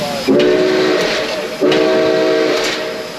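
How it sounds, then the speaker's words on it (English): The whistle of Nickel Plate Road 765, a steam locomotive, blows two long toots, each holding a steady multi-tone chord for about a second with a short gap between, loud and close. "Go ahead and give me 2 toots on the whistle."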